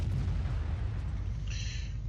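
A tank gun shell explodes in the video game World of Tanks, giving a dense, rumbling boom that sustains with low roar and debris-like crackle, loud and close, with no talking.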